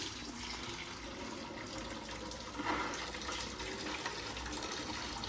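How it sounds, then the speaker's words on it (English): Coolant drains from a Raptor 700 ATV in a steady liquid stream, a continuous soft trickle and splash into a container with no voices. "So let all of that drain out"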